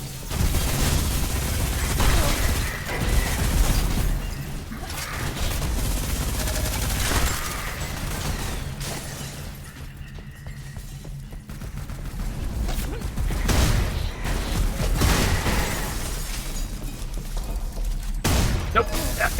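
Gunfire and mechanical robot blasts from the sci-fi shooter Selaco, dense and continuous with booming bursts, fusillade-like volleys and a brief lull in the middle, with a voice talking over parts of it.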